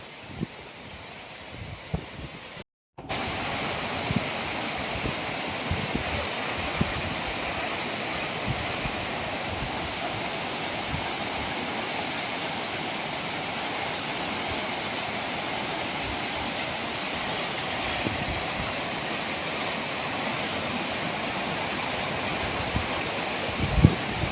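The Ranpat waterfall roars up close as a dense, steady rush of falling water, loud and unbroken apart from a momentary cut near the start, with no voices.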